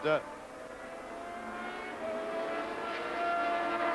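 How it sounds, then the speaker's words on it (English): A Formula One race car engine idles on the grid at the 1982 British Grand Prix, a steady droning tone that rises slightly as it runs, heard under continuous commentary. "He's got the engine running."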